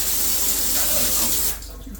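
A handheld filtered shower head sprays water in a loud, steady hiss that fills the room, then drops sharply in level near the end as the flow shifts away.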